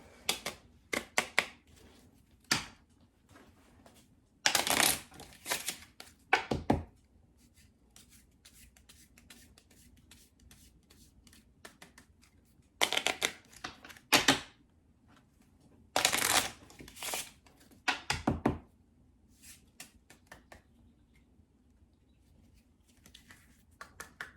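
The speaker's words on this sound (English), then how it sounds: "I'm just going to shuffle it and draw them right here in front of you" Cards are shuffled in several quick riffling bursts, crisp and close, separated by quieter pauses with light handling sounds.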